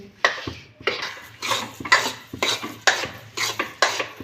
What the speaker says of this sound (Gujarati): આ રીતના આપણે હલાવતા રહેવાનું છે નીચે નીચે દાજ ના બેસે